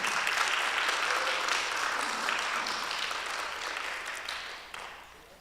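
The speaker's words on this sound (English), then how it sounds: "a good big round of applause for Pastor Sarah" A church congregation at a Lutheran annual meeting claps for their pastor, a fairly soft, spread-out round of applause that gradually thins and fades toward the end.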